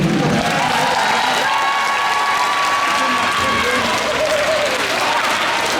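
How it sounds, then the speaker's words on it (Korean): A crowd of students at a school concert commemorating anti-Japanese resistance applauds the performers loudly with dense, continuous clapping and some cheers and shouts mixed in, sustained at full strength throughout. "오늘 공연을 위해서 공연해 주신 공연해 주신 분들께 다시 한번 큰 박수 한번 더 부탁드립니다"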